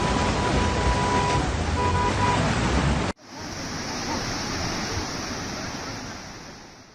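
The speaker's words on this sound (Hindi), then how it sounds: "बादल फटने से मलबे के साथ सैलाब सड़कों पर आ गया" Floodwater laden with debris surges through town streets after a cloudburst, a loud, steady roaring rush that breaks off abruptly midway and resumes as a slightly softer, continuous wash of water.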